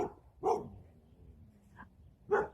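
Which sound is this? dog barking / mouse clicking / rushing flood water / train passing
dog barking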